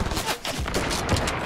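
Gunfire in a Fortnite Battle Royale match, a loud, dense burst of rapid shots packed into about a second and a half.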